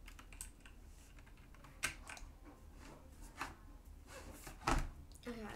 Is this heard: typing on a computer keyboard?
yes